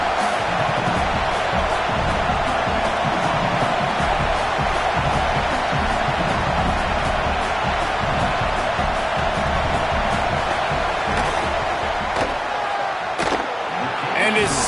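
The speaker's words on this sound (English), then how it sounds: "This crowd trying to do its part to get inside the kicker's head." A large college football stadium crowd roars continuously during a field goal attempt, a dense, loud, sustained wall of noise that barely dips for the whole stretch, with sharp thuds near the end.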